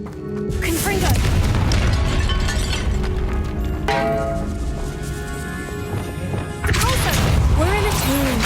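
A Confringo spell explodes in the Hogwarts Legacy video game, giving loud booming crashes with debris clatter in three bursts, spaced a few seconds apart.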